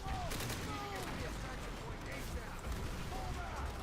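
Sustained gunfire from a crude, homemade-looking gun in Call of Duty: World at War, a dense battlefield rattle of shots over constant loud combat noise, with voices mixed in.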